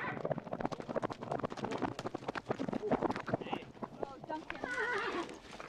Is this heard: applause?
no